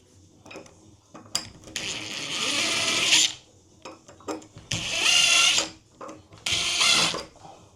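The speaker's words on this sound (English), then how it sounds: "So for this, I'm just using the self-center bit." A power drill with a self-centering bit boring small screw holes in wood, three sustained whining bursts separated by clicks and handling noise, close and loud with no talk.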